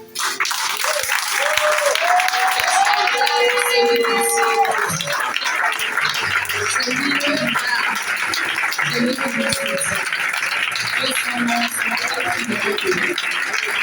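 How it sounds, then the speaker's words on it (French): A church congregation cheers and applauds to acclaim Jesus, a loud sustained wash of clapping and shouting voices with a speaker's voice rising over it at times. "Je veux que quelqu'un acclame Jésus"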